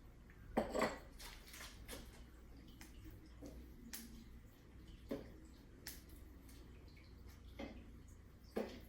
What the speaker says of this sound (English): now you want to take and pour it, stir while you're pouring it in.